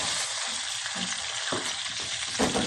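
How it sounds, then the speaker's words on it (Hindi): Semolina tipped into hot ghee and roasted in a pan, a dense continuous frying hiss with a few soft stirring scrapes, close and steady, no voices. "घी हमारा गर्म हो गया, अब मैं सूजी डालने लगी 1 प्याली।"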